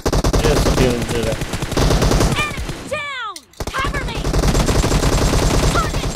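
Dense automatic gunfire from the PUBG Mobile game rattles almost continuously and loud, pausing briefly midway under a sweeping whoosh before resuming in rapid bursts.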